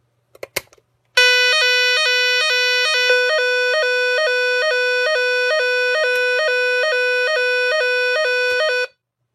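A Nugelec Planete type 4 alarm, model NUG31218, rings during a test: after a few faint clicks it sounds a loud, steady, pulsing electronic tone for about eight seconds, then cuts off.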